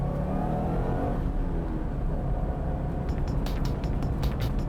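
Nissan Skyline GT-R driving on a closed course, its engine note steady and fairly loud throughout, with a few brief higher whooshes near the end as it passes or shifts.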